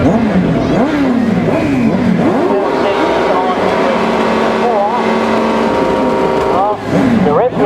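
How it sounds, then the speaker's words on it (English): Several sidecar racing engines at a grasstrack meeting rev and rise in pitch together, loud and close, with a voice talking over the roar. "The revs are starting to go up"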